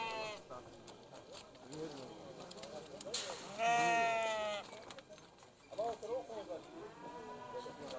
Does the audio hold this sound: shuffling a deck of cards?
no